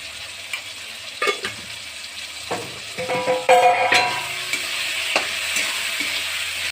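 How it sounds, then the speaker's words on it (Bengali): Salted and sugared tomatoes fry in a pan for mutton kosa, a close, steady sizzle broken by repeated scraping and clattering strokes of a spatula stirring the pan, with no voices. "টমেটোটা ভাজা ভাজা হয়ে গিয়েছে,"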